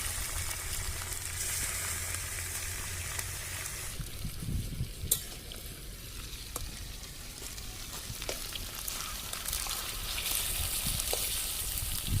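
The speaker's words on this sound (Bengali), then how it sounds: "তেল গরম হয়ে গেছে এবার আমি ডিমটা সব ভেজে নেবো" Eggs frying in hot oil for an egg curry give a steady, close crackling sizzle across the whole stretch, with occasional stirring scrapes and small pops, no voices.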